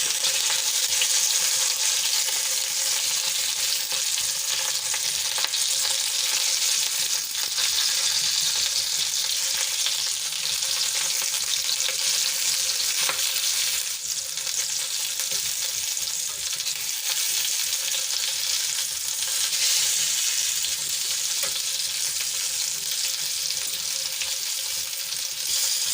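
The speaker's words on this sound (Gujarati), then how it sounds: "ધીમા તાપે એને શેકાવા દઈશું." Stuffed Kathiyawadi chillies frying in oil on low heat give a steady, even sizzle with soft crackles that run unbroken throughout, with no voices.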